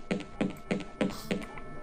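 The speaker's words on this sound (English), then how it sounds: "I'm typing in chat" Keys tap out a few evenly spaced soft clicks on a computer keyboard nearby, faint and unhurried.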